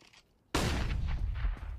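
An AK rifle fires in a Counter-Strike match on Dust2, starting abruptly after near-silence and running as a rapid, loud burst of overlapping shots that holds for over a second.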